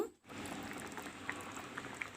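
A pot of kanda pulusu, a yam and tamarind stew, bubbles on the stove with a steady, soft simmering hiss and scattered small pops, faint and close, with no talk.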